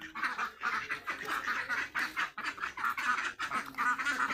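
A flock of ducks coming home from a river to be fed, quacking densely and continuously in an overlapping chorus close by.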